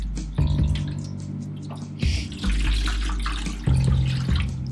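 Film developer and water poured together into a mixing container for film processing, a steady running liquid pour that stops and restarts a few times, close and fairly loud with no talking.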